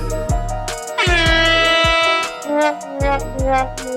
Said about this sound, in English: Yes, sound the horns.